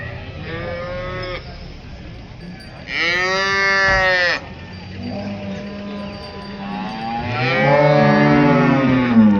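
Cows mooing at the Chakan cattle market, three long drawn-out moos one after another, loud and close, with low crowd and market noise underneath.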